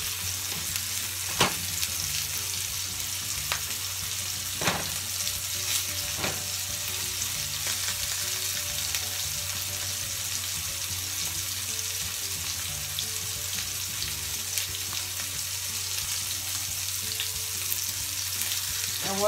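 Onions fry in a pan on a stovetop eye held at moderate heat, giving a steady, even sizzle that lasts throughout, with a few sharp clicks and taps of a utensil. No voices are heard.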